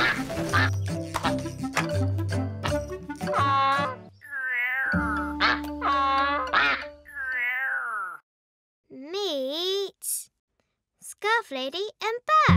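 A cartoon duck quacks in a children's animated series, bursts of nasal quacks mixed with meow-like cries and childlike voices, close and clear with short silent gaps between calls.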